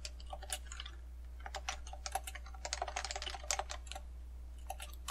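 Keys on a computer keyboard connected to a Raspberry Pi are pressed one after another in irregular clusters of soft, close clicks over a low steady hum.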